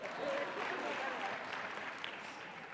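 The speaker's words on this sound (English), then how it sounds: "Yes, clap your hands for yourselves." An audience at a ministerial and executives conference claps hands steadily, a dense, even applause filling the room at moderate level for a few seconds.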